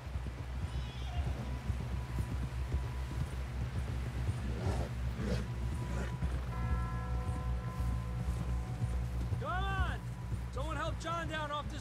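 Hooves clip-clopping at a steady gallop in the game Red Dead Redemption 2, under voices talking, with a horse whinnying near the end.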